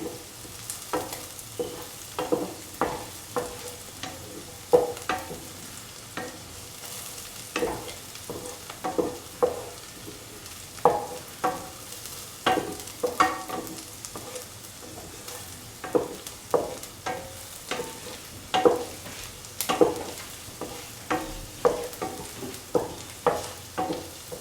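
Shallots sauté in a pan with rhythmic stirring strokes, each scrape a soft clack over a gentle, continuous sizzle, heard close and steady throughout.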